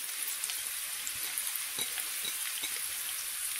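Shredded carrot, about one carrot, fries and is stirred in a pan while making a lumpia filling, a soft steady hiss of sizzling with light scattered crackles, heard alone without talk.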